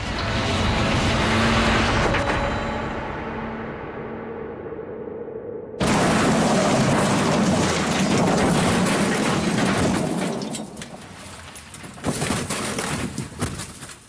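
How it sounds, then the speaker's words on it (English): An Austin Allegro drives backwards at speed, its engine and road noise droning loudly before an abrupt cut to a harsher, rumbling vehicle noise that tapers, then a brief rough burst near the end; no talking. "it's necessary for the Allegro to achieve its top backwards speed of 40 miles an hour"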